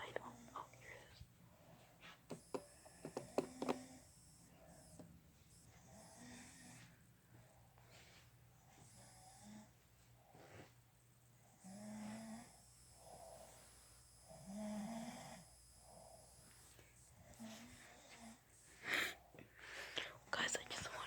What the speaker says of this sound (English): I just wanted to prove that my dad snored